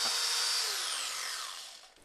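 A cheap electric power file rigged as an angle-keeping knife sharpener runs alone with a high, steady whine whose pitch slowly falls as it winds down, ending abruptly.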